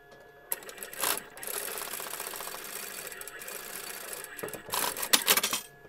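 A sewing machine stitching a small piece of fabric for doll clothing, its needle running in a steady fast mechanical whir with short bursts and pauses, close up and fairly quiet.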